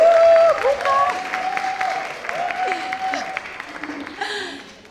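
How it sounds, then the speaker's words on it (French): Audience applause for the three founders of the Creole restaurant Boucan at a talk on local Creole cuisine, a brief clapping burst that fades out under a speaking voice. "Oui, on les applaudit."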